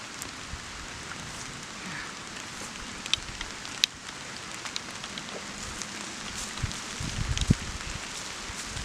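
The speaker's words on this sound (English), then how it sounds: "And it's raining." Steady rain patters on surfaces nearby, a soft continuous hiss with occasional sharper drops, and no one speaking.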